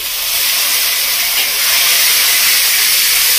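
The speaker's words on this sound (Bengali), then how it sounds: "এবার দিয়ে দেবো মধ্যে আদা রসুন বাটাটা" Ginger garlic paste hitting hot oil with fried onions in a pan, a loud steady sizzle and hiss that holds throughout without letting up, with no voices over it.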